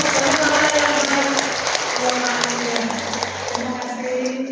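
A church congregation at a women's day seminar applauds and cheers in praise to God, a dense, steady wash of clapping with scattered voices that stays loud throughout and thins slightly toward the end.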